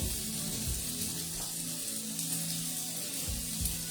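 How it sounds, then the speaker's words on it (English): A small amount of water is poured into a stir-fry pan of browned beef and spices, giving a steady, fairly loud pouring rush and faint sizzle that continues evenly without talk. "I just want to put in just a small amount of water"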